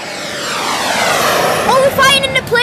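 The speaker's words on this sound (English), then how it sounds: "I heard the aeroplane sound." Aeroplane engine drone from a video game, a loud sweeping roar that shifts in pitch over a couple of seconds, with sharp game effects near the end.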